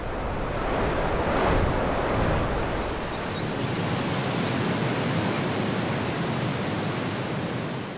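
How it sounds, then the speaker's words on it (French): Rushing water from a gurgling mountain spring in wild Austrian terrain, a loud, steady roar of flowing water that swells briefly early on, then stays constant, with no voices. "à partir de midi, la source commence à gargouiller"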